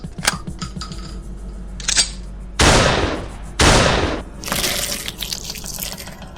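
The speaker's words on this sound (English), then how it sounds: "Beaumont pulls out his shotgun and opens fire" A shotgun sound effect with two loud, booming blasts about a second apart. Each trails off into a rumbling decay, and sharper mechanical clicks and rattles come before and after.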